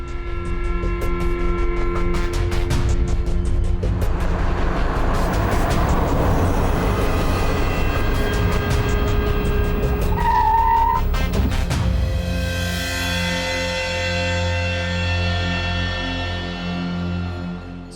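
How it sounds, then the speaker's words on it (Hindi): A police car speeding away in a hurry, its engine roaring loud and close with tyre squeal, then the motor note fading and drawing off into the distance. "गाड़ी निकालो जल्दी।"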